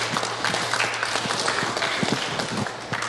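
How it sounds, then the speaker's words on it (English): A town hall audience applauds steadily throughout, a dense, even patter of many hands clapping at moderate volume with no pauses, while a faint steady hum sits underneath. "I'd like to have all participant here applauding his effort to pass the Senate bill."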